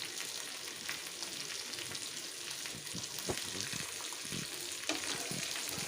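Fish frying in a pan of oil and butter at home, a steady close sizzle and crackle running throughout with a few soft knocks as the pieces are turned.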